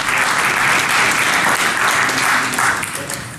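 Sustained, loud applause from a conference audience at a security talk, dense clapping continuing throughout and easing slightly at the end.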